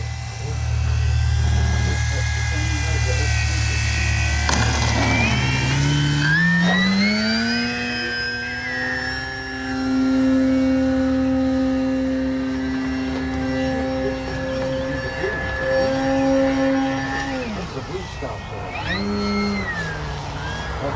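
A Flex Innovations RV-8 60E G2 electric RC plane whines overhead, its motor pitch rising and falling through maneuvers, with wind rumble and a nearby voice talking over it.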